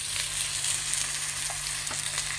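Fresh mackerel sizzles steadily in a grill pan, a constant bright hiss of frying oil with small pops and crackles, close and continuous with no talk.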